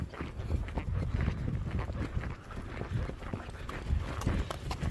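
Horses out on a trail ride toward a lake, their hooves clip-clopping in an irregular walking rhythm close by, with light wind noise on the microphone.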